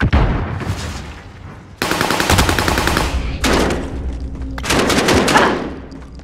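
Automatic gunfire in Call of Duty: Warzone rattles in three loud sustained bursts of rapid shots, separated by brief quieter gaps with distant shooting.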